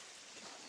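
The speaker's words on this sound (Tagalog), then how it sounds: "Walang tigil ang ulan." Steady, continuous rain falls with no break, a dense even hiss close by that holds at one level throughout the short moment, with no voices over it.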